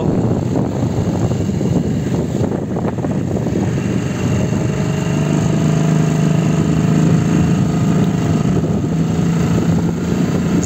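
A Storm outboard boat engine running on the water, a loud, steady droning rumble with a throbbing low tone that holds without a break, close by.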